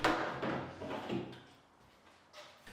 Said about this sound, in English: Then remove the lid and place it to one side.